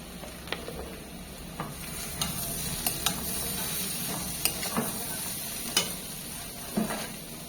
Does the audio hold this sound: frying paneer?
yes